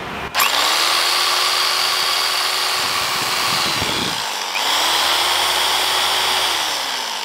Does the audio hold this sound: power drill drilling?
yes